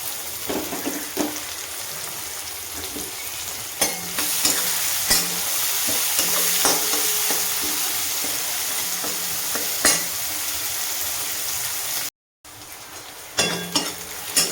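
Onions fry in a pan with a continuous close sizzle, punctuated by occasional clinks and scrapes of a stirring utensil against the pan, broken by a brief silent gap near the end.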